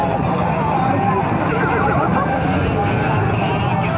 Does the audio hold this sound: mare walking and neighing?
yes